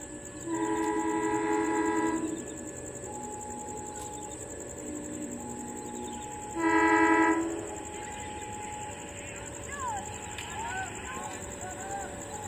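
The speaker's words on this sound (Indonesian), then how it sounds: "Kita tunggu keretanya lewat sini." Train approaching a level crossing, with a horn sounding in sustained blasts at intervals over a steady high-pitched crossing tone and a background rumble, at moderate distance.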